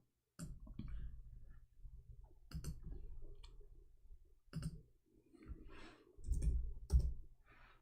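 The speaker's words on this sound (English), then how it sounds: "let me type it for you." Scattered clicks of typing on a computer keyboard: short bursts and single taps separated by pauses, fairly close and quiet, with light background rustle.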